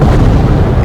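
A single loud, booming explosion in the video game Sniper Elite, with a dense low rumble filling the whole moment.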